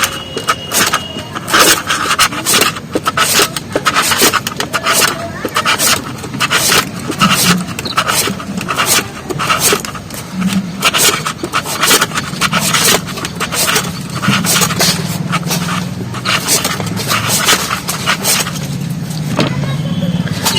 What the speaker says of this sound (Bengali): আলুটা এইভাবে গেটারের সাহায্যে আমি কেটে নিচ্ছি